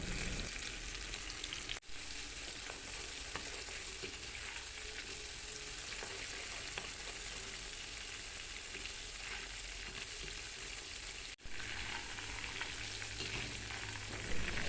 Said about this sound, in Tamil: எண்ணெய் சூடானவுடன் எண்ணெயில் நம்ம இப்போது இறாலை பொரித்து எடுத்துக்கலாம்.